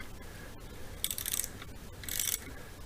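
A wrench tightens bolts on a VW T3 engine during a rebuild, giving two short bursts of bright metallic ratcheting clicks against a quiet background.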